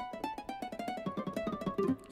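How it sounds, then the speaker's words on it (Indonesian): Guitar harmonics voice on a Yamaha Motif XF8 synthesizer, a quick run of bright plucked harmonic notes in rapid succession, played alone at moderate level. "kita akan membunyikan semua suara gitar di harmonik"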